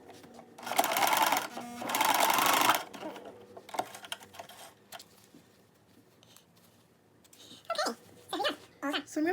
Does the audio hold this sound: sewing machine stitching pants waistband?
yes